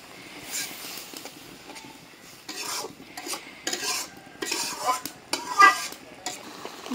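Masala with green chillies for prawn curry being stirred and scraped in a pot on a village clay stove, rhythmic bursts of scraping and light clinks over a faint sizzle, close and moderately loud.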